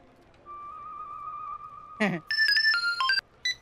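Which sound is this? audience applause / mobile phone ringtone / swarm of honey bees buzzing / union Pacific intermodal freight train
mobile phone ringtone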